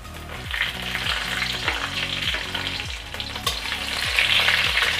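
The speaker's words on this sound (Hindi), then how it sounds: "और इसको कुछ देर तक फ्राई करेंगे" Bay leaves with dried red and green chillies fry in hot oil, giving a steady close sizzle with rhythmic bursts of stirring and no talking.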